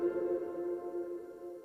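A sustained chord played through a reverb effect, a smooth, steady tonal wash with long blended decay and no distinct attacks, fairly quiet and alone with no speech.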